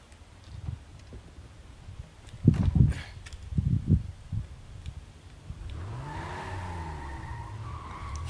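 A car in the Devil May Cry game skids, a brief tire squeal sweeping in after some shuffling footsteps and soft thuds, then settles into a steady engine hum with a rising and falling whine.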